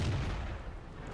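A heavy tank gun shot in World of Tanks, with a T-34-1 being fired on by a Leopard, a single deep booming blast with a low rumbling tail, fairly loud and alone.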